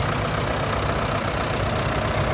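A Ford 7200 tractor engine runs steadily in a steam and gas show parade, a loud, continuous, rough diesel-like idle with a knocking texture, close and alone.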